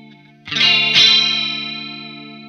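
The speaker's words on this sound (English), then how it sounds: "You get a more sparkly type of chorus type of sound." An electric guitar runs through an MXR Analog Chorus pedal: two strummed chords ring out with a sparkly, shimmering chorus and slowly fade, loud and close, with no talk.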